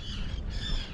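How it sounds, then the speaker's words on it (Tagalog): Seabirds squawk harshly over the sea on a fishing trip off Kish Island, a brief, close, raspy call under a steady background hum. "Yan na yung mga ibon master"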